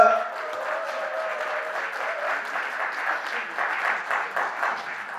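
Applause from an audience at a Basic Income Party founding convention in Busan, a sustained patter of many hands at moderate level that grows slightly toward the end, with a voice and a tone heard briefly at the start.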